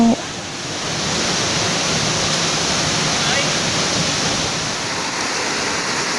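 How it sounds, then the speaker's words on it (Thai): Mae Koeng Luang waterfall, a large seven-tiered falls about 213 metres high in Thailand, roars as a constant broad wash of falling water, loud and close and unbroken for six seconds after a brief opening bump. "น้ำตกแม่เกิงหลวงเป็นน้ำตกขนาดใหญ่ที่ไหลลดลันลงมาเป็นจั้นๆรวมทั้งหมดเจ็ดจั้น"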